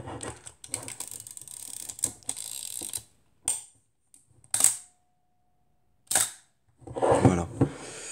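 A Rolleiflex SL66 medium-format camera shutter fires at set speeds, several distinct mechanical clacks separated by silences, with one long exposure leaving a gap between opening and closing clicks, close and crisp.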